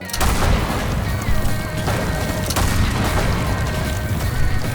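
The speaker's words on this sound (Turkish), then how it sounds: "Osmanlı topları Şah İsmail'in ordusunu yoğun top ateşine tutmaya başladı." Ottoman cannon fire in a battle against the Safavid army at Chaldiran, heard as a dense, continuous barrage of deep booms and rumbling blasts that is loud and sustained throughout.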